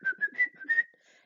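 A person whistles a short, clear tune of about five quick notes, close and isolated, ending in a soft fading breath.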